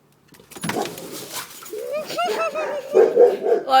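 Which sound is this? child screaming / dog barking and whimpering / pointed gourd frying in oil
dog barking and whimpering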